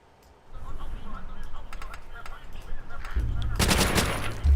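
Gunfire in Call of Duty: World at War, a clatter of rapid shots that builds from scattered bursts into a loud, dense volley near the end, with game sounds underneath.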